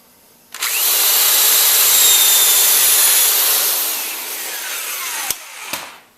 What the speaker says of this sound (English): I'm just going to take my drill and punch in a series of holes here.